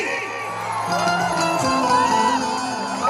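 A crowd cheers and shouts to welcome a Bhojpuri star as he makes his stage entry at a village show in Pahari, Sasaram. The roaring, whooping mass of voices mixes with tonal music and swells steadily throughout.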